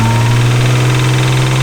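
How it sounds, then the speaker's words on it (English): Barn-find Nissan R32 Skyline engine with a bad rod knock running loud and close, a steady drone with a strong low tone and a fast, even knocking pulse throughout. "It's making a really bad knocking sound."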